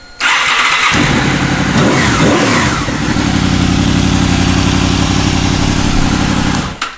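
A 2003 Honda VFR800 motorcycle with a wiring fix cranks and fires within a second. It blips once, then settles into a loud, steady idle close by, ending abruptly.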